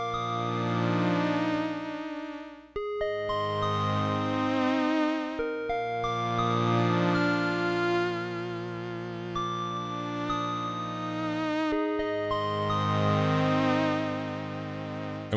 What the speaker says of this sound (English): And we have a beautiful analog string pad layered in here.